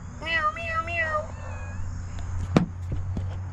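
A cat gives a quick run of close, bright meows, then a trailing softer one, followed by a sharp knock against a steady low hum.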